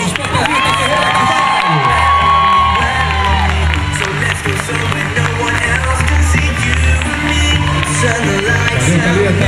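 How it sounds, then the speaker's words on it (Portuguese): A crowd at an APAE fashion dance runway show cheers and whoops loudly for a participant, with shouts and children's voices mixed into a dense, continuous roar and a low musical drone underneath. "Mais aplausos para Thalita Ferreira Carvalho!"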